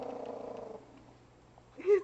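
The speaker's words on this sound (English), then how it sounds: "It sounds like he's purring." A pet purrs softly in a low, steady rumble for under a second, faint and close, followed by quiet and a brief louder sound at the end.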